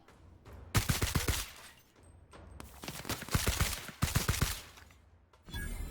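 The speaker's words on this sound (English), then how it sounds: "Who else is shooting at me?" Rapid gunfire from The Outer Worlds, with several bursts of automatic shots in quick succession, loud and close, separated by brief lulls.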